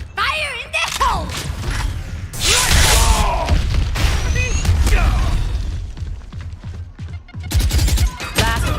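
Explosions and bursts of gunfire from a fast-paced shooter video game, loud and close, with heavy booms, rapid firing, clanking mechanisms and other effects layered densely through the whole stretch.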